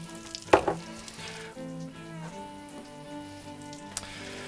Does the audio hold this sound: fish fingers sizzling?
yes